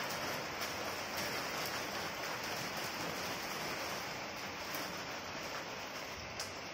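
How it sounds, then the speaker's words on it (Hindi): Heavy rain pours down in Salugara as a steady, even hiss of dense rainfall that continues without a break. No voices are heard. "देख बाबा एकदम फुल बारिश, एकदम बोले एकदम पूरा बारिश"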